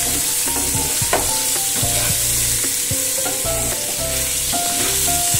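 Potatoes seasoned with salt and turmeric fry steadily in a pan for a Bengali fish curry, a continuous close sizzle broken by repeated scraping stirs and knocks of the spatula.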